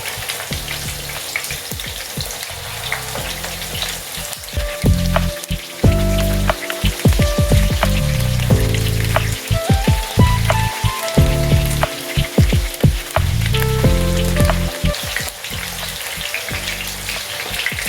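Chicken wings frying in oil on low heat, a dense crackling sizzle like rain on a surface, steady and close, with intermittent louder pops and clatters from about six seconds onward.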